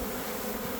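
Honeybee swarm held in a large capture net, giving a dense, steady buzzing drone, close and continuous for under a second, with no talk.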